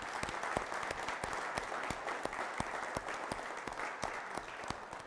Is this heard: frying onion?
no